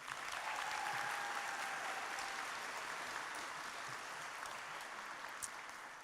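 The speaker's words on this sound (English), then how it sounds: "And a round of applause for all of our Master of Fine Arts." A graduation ceremony crowd applauds the Master of Fine Arts graduates in a large hall, with sustained, even clapping from many hands that tapers slightly toward the end.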